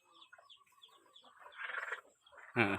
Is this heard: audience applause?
no